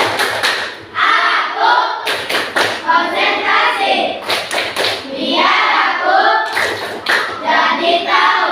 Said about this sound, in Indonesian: Sekali lagi kita ice breaking, tepuk konsentrasi.